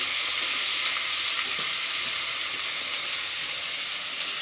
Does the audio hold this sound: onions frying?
yes